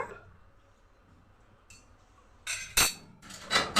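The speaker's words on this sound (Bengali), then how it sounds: "ঘুটনটা দিয়ে ঘুটে দিচ্ছি ডালটা" A wooden masher works through well-boiled, salted masoor dal in a pot: after a quiet stretch, a few sharp knocks and scrapes sound close by toward the end.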